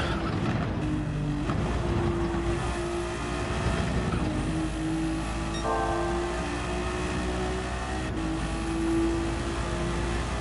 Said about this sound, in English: Seems like the engine braking is a bit harsh.